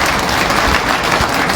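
Rally crowd at a party workers' conference in Nalagarh, Himachal, clapping in a brief loud burst of dense applause.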